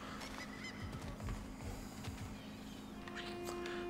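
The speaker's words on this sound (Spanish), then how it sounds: "Vale, hay pájaros, pero no son los de Odín" Geese honking in God of War Ragnarok, a cluster of faint nasal calls repeating over a constant ambient hum, with quiet game sounds around them.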